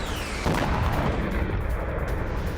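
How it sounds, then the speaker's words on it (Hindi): Airstrike explosions on Syrian military targets boom out as a sudden heavy blast followed by a rolling, rumbling roar that stays loud and distant-sounding, with no voices. "सीरियाई सैन्य संसाधनों पर बमबारी की गई है"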